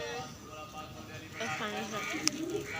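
Pigeons cooing at a shrine courtyard, soft low coos under a busy crowd murmur with a brief sharp click near the end.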